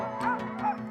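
Sled dogs yip and bark excitedly before a run in snowy Norway, a few close overlapping barks in quick succession over a steady background din.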